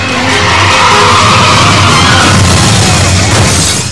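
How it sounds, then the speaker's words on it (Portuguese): A pickup truck driven by fleeing robbers skids out of control on a road and slams into another car and an embankment, a loud sustained roar of sliding tires and crunching impact noise. "os bandidos perdem o controle da caminhonete, batem em outro carro e contra um barranco"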